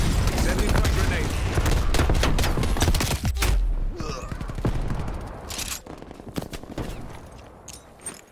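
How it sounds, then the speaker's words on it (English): Heavy, dense gunfire in a Call of Duty video game with a booming frag grenade blast, loud and continuous at first, then thinning into scattered shots, with in-game voices calling out over the combat. "Throwing frag grenade! Sending frag grenade!"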